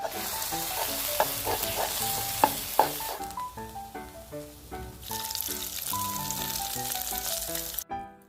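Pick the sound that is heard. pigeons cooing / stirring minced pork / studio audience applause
stirring minced pork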